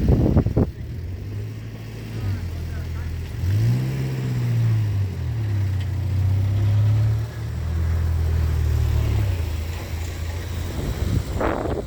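A car engine of tourists stopped beside rock salt pans on Gozo, Malta, hums low and steady, swelling in one rev midway, with wind buffeting the microphone throughout.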